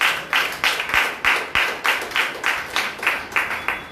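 A church congregation at a Sunday service claps in unison, a steady rhythmic beat of about three sharp claps per second that carries on throughout.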